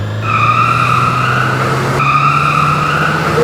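A Volkswagen Passat mod in Euro Truck Simulator 2 drones with a steady engine and exhaust note, its pitch holding firm and then climbing slightly near the end, loud and close.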